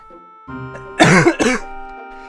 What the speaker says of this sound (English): Well, now I've coughed.